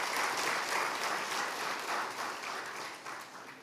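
Steady applause from distinguished guests at a parliamentary orientation for members-elect, a thick, even roll of many hands clapping, fairly distant and soft, tapering slightly at the close.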